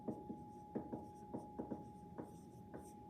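Pen or pencil writing numbers by hand on paper for math notes, faint close scratchy strokes in short separate bursts over a quiet steady hum.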